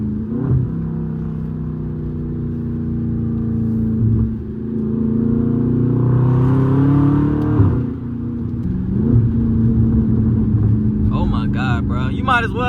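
A Dodge Charger Scat Pack 392 sliding through turns, its V8 engine droning and revving in rising and falling waves, loud and close, with people talking over it.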